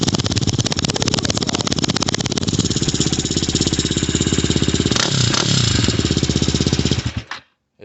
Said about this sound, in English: it sounds good at idle